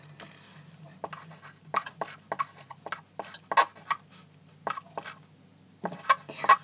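2B art pencil writing on paper: a string of scratchy, squeaky strokes in uneven bursts with short pauses between, fairly faint and close, over a quiet background hum.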